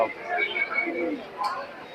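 Pigeons coo in low, soft murmurs at an outdoor pigeon market in Khulna, Bangladesh, with nearby voices talking over a continuous background of birds and crowd noise.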